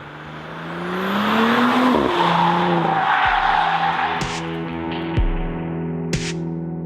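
An Audi S4 Avant with a 354 hp V6 accelerates hard, its engine note climbing through the revs with tire squeal and a couple of sharp gear-change breaks, loud and close.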